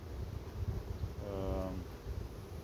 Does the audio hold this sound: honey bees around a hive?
yes